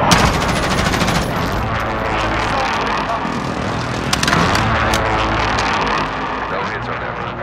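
Rapid gunfire and heavy explosive bursts from an air strike in the Call of Duty: Modern Warfare video game, a dense continuous barrage with sharp impacts, with voices speaking over the battle.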